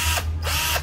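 A used Japanese-market Hitachi cordless drill whirs in short bursts, its motor speed rising and dropping in quick pulses close by, with no talking.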